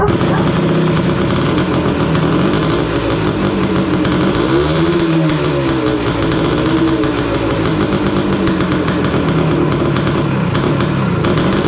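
A Yamaha DT250A motorcycle engine runs after a kick start, a loud continuous two-stroke drone with a brief rev swell midway, up close, with someone speaking over it.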